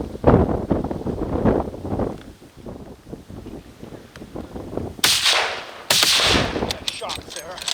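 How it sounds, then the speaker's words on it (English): Rifle shots fired at an Alaskan Kodiak brown bear outdoors: loud sharp cracks with booming echoes, roughly two clear blasts near the end, amid wind noise and voices talking. "You hit him hard the first shot."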